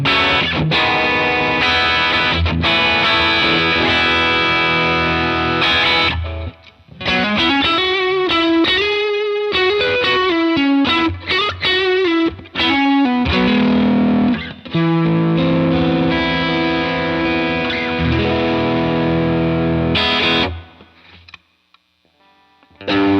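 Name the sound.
guitar through Browne Amplification Carbon X Dual Overdrive, gain maxed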